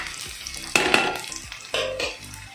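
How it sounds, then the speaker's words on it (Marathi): Onions fry in oil in a pan until brown, with a steady close sizzle broken by a couple of sharper scrapes as a spoon stirs them. "कांदो न्ही अजून थोडं भाजूंक जाय म्हणजे असे ब्राऊन टाईप मातसो जावपा जाय"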